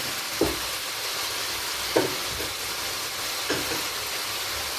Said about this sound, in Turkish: Etler burada pişerken şöyle çevirin.